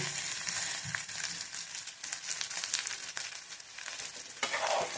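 Pirandai, the adamant creeper, fries in a pan with a steady, close sizzle that crackles throughout and gets louder near the end.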